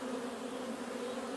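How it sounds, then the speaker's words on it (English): Honey bees swarm at a busy hive entrance in April, a dense continuous buzzing hum close by, steady and alone. "there's so many bees getting in and out"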